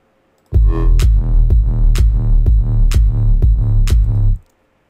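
A loud wobble bass patch from oscillator 2 in the Massive synth, a deep future-house growl pulsing in a steady rhythmic wobble of about eight beats with bright flaring accents, then cutting off cleanly.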